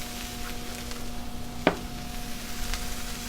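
Vegetables seasoned with salt, pepper and garlic powder sizzle on a Blackstone griddle with leftover bacon grease, a steady close hiss under a constant electrical hum, broken by one sharp spatula scrape.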